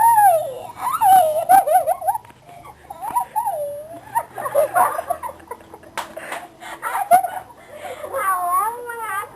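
Dogs fighting up close: wavering whines, yelps and snarling barks rise and fall in frantic bursts, with excited human shouting mixed in.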